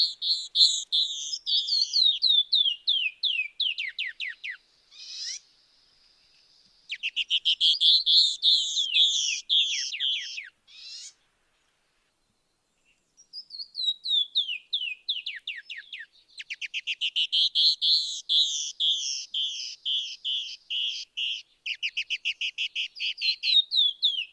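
Two canyon wrens sing a male-female duet of cascading, descending whistled notes in repeated runs. The phrases overlap loosely and are broken by a couple of short pauses, clear and close against a silent background.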